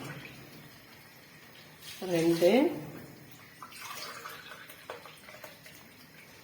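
Mutton cooking water is poured from a tumbler into a pot for biryani, a short splashing burst of liquid rising and falling over about a second, set among quieter kitchen sounds while someone speaks.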